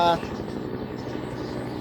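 Two helicopters flying overhead above a farm with intercropped plots make a steady, droning rotor rumble with a low rhythmic thump that holds evenly throughout, moderately loud and continuous.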